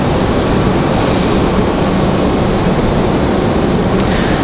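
A JetBlue Airbus A320-200 in new livery, inbound from Boston to Raleigh-Durham International, roars loudly and steadily overhead in a continuous broadband engine drone with no talking.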